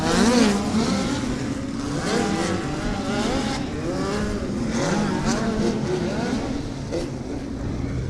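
A full field of dirt-track race cars at the Dirt Track at Indianapolis Motor Speedway roars as engines fire and rev together, a dense, loud, continuous drone with rising and falling pitch sweeps; a voice talks faintly underneath.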